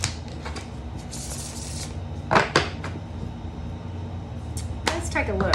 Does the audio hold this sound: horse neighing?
no